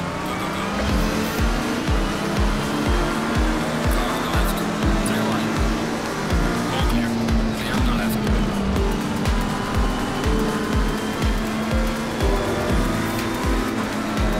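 Race car engine from a racing video game played on a Logitech G Pro wheel, steady high revving with rising and falling gear changes and rhythmic pulses, continuous and loud throughout, with some speech faintly mixed in.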